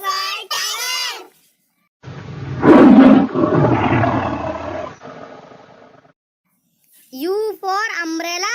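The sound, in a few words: tiger roaring, cartoon sound effect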